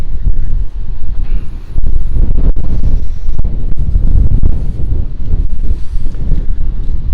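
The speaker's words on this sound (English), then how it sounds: "this is super windy" Strong gusty wind buffets the microphone on a beach at Caleta de Fuste, Fuerteventura, a loud, continuous low roar with brief dips, with no clear voices.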